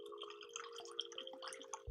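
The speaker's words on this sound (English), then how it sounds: "Now I'm going to take a splash of mango orange sun-kissed." Mango orange sun-kissed drink splashing into a glass, a brief run of light dripping and trickling liquid over a steady background hum.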